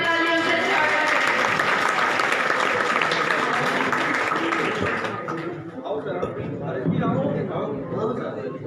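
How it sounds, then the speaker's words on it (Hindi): Loud, sustained applause from an audience welcoming teachers being honored with mementos at a school event, dense clapping filling the room and easing slightly near the end with voices mixed in. "जोरदार तालियों से स्वागत करें।"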